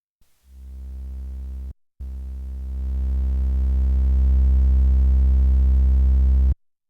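A steady triangle-wave tone from a Behringer K-2 synthesizer, loud and clean, starting briefly, cutting out for a moment, then holding and swelling slightly before stopping abruptly.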